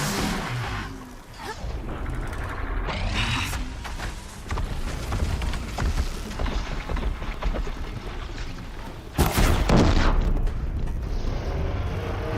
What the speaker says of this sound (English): listen to this when I explode the blaze unit